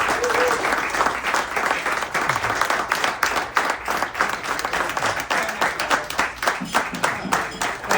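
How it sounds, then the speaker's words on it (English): Reunion audience at a University of Waterloo Civil Engineering class of 1985 gathering gives Kevin a second round of applause, dense steady clapping from many hands that fills the whole stretch without a break. "we already gave him a round of applause, but let's give him one more"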